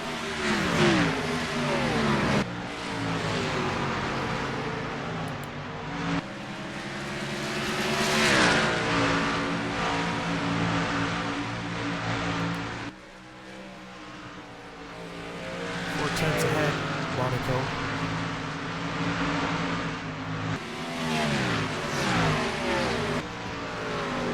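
Stock cars race in the iRacing sim at Richmond, engines droning and revving steadily throughout with shifting pitch as cars pass, while a commentator talks over the racing.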